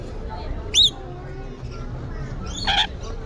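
A bird at an aquarium gives two sharp, high chirps about two seconds apart, loud and close, while people talk quietly around it.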